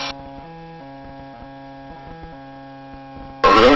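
A small airplane engine runs at full throttle, 4,800 RPM, on the takeoff roll, heard as a steady, even drone with stable tones, ending in a brief loud burst of broadband noise.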